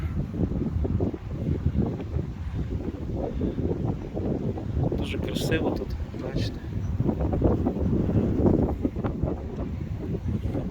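Steady wind buffets the microphone in a continuous low roar beside the high walls of Nitra Castle, Slovakia, while a person speaks briefly over it.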